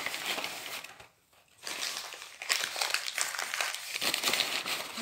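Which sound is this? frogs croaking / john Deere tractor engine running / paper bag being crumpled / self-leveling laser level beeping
paper bag being crumpled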